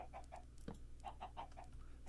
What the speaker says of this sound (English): put your chickens in there and then breed them or whatever.